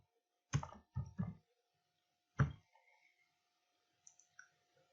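A computer keyboard and mouse in a quiet room while a menu name is entered: a few crisp, close clicks and key taps in short clusters, then a long pause and a single sharp click.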